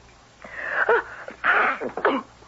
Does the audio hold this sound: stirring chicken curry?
no